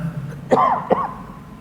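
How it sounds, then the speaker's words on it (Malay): A man coughs twice in quick succession during an Islamic lecture, short sharp bursts that stand out against a quiet hall with no talking. "Saya batuk sikit."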